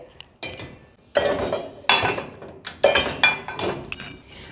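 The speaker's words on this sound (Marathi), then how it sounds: "ही भांडी मी तुम्हाला मुद्दामून दाखवते की मी कशा कशी भांडी ह्याच्यात लावते आहे" Dishes, pots and cutlery clatter and clink as they are loaded into a Siemens dishwasher, in a run of sharp, close, irregular knocks and rattles.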